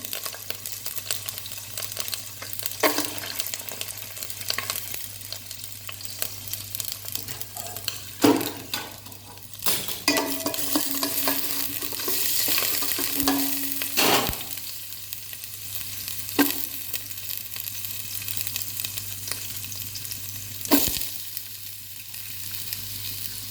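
Ginger and garlic sizzle in about two tablespoons of coconut oil in a pan, a steady close frying hiss broken by scrapes and knocks of a spoon stirring, no talking.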